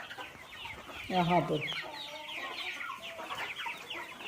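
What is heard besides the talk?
desi hens clucking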